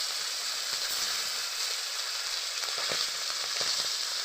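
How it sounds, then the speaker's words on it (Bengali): Fish frying in hot oil for a Bengali mustard hilsa dish, giving a steady, dense sizzle that holds evenly throughout with faint crackles, and no voices over it. "আর যেগুলো বাকি আছে সেই মাছগুলোও কিন্তু এবারে ভেজে নেবো।"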